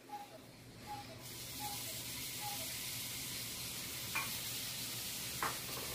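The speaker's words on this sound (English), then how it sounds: "I'm gonna saute my onions for about 30 seconds" Onions sautéing in melted butter for cilantro lime rice, a soft continuous sizzle and hiss with a couple of faint utensil taps, fairly quiet and steady.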